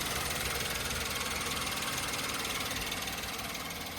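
A 2016 Maruti WagonR VXi petrol hatchback's engine runs at a smooth, steady idle, close and continuous for the whole stretch with a faint rhythmic pulse and no voices.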